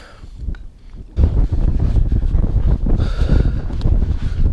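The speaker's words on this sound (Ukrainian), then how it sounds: "вітер зійнявся" Strong wind buffets the microphone, with a steady, loud rumbling roar that rises sharply after a calmer opening moment.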